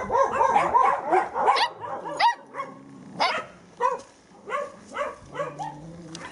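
Several dogs at an animal shelter in Novovolynsk in autumn 2014 bark nearby. A dense burst of overlapping barks and yips gives way to scattered single barks and whimpers.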